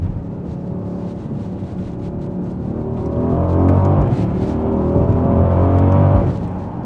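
Mercedes-Benz AMG GLE63s SUV engine accelerating, a deep steady roar building in loudness as revs climb, then easing off near the end; heard from inside the cabin, no talking.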